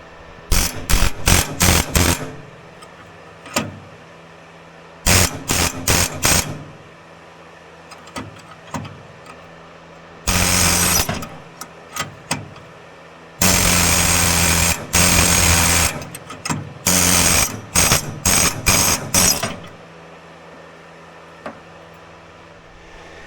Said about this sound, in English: I'm going to try air hammer and a really long chisel.